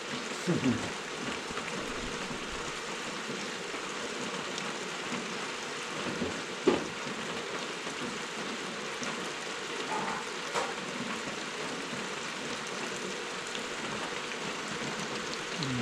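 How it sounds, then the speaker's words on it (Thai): Rain falls outdoors around a wood-fire cooking spot in a steady, even hiss with occasional louder drips, while someone talks quietly over it. "บรรยากาศรอบนอกวันนี้ฝนตกนะครับ"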